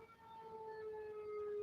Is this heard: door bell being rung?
no